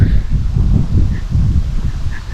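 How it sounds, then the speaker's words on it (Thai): Strong wind gusts outdoors while out searching for bee nests, rumbling low and continuously across the mic with leaf rustle and a couple of faint bird chirps. "วันนี้ลมแรงจังเลย"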